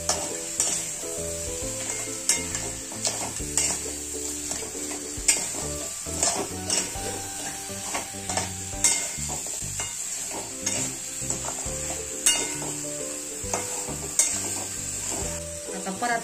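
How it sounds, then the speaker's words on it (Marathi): Crabs sautéing with salt in a pan for a crab curry, with continuous sizzling and repeated scraping stir strokes of a spoon, heard close under background music. "खेकडे त्याच्यात टाकून ती पण चांगली परतून घ्यायची"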